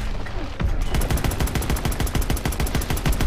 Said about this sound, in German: Ach, die schießen automatisch auf die nächsten Gegner.